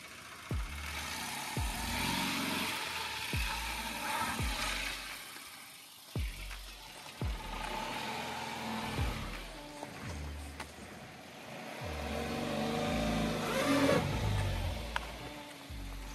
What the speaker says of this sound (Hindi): चेक करते हैं कि नैनो यहाँ से मुड़ती है या नहीं